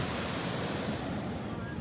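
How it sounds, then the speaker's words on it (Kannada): Sea waves wash onto the beach at Gokarna at night in a steady, broadband roar of surf and wind, close and continuous with no distinct breaks. "ಸಮುದ್ರದ ಅಲೆಗಳು ನೋಡಿ ಹೇಗೆ ಹೊಡಿತಿದೆ"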